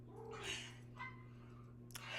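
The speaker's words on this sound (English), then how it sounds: "there's my loud cat" A loud, vocal house cat meows and yowls in a few drawn-out cries, fairly close, over a steady low electrical hum with no talking.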